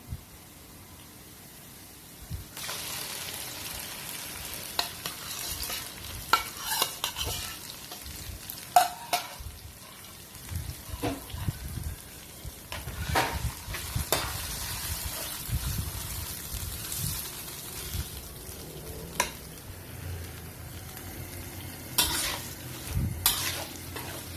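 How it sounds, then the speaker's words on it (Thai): Marinated pork tossed with fragrant garlic in a hot pan, a steady sizzle broken by frequent scraping stirs and clinks of the utensil against the pan, close and with no talking. "ที่ใส่หมูลงไปผัดเลยนะคะ หมูที่เราหมักไว้ค่ะเพื่อนๆ"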